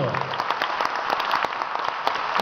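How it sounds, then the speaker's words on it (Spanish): An outdoor festival crowd applauds a mariachi band, scattered sharp claps rising through steady crowd noise, with some voices mixed in. "Fuertes aplausos entonces para los mariachis ahí"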